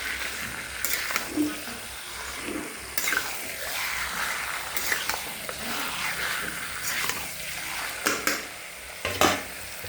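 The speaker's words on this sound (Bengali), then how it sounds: "চিকেনটা দিয়ে মশলাটা সুন্দর করে মাখিয়ে নেবো মশলাটা" Chicken pieces being stirred and mixed with spice masala in a pan for a red, spicy chicken kosha, soft scraping and sizzling with a few sharp utensil knocks, quiet and close.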